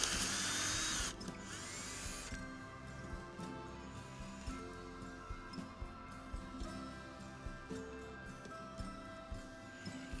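A power drill bores a hole through a wooden lower fence beam for a Japanese-inspired fence. A short loud whir is followed by quieter grinding with irregular ticks and knocks.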